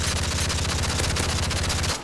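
Rapid automatic gunfire in Modern Warfare 3, a loud continuous burst of close shots in quick rhythm lasting about two seconds before cutting off.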